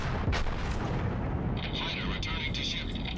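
Nagato battleship main guns firing in World of Warships, a couple of deep booming blasts with rumbling tails under a voice talking.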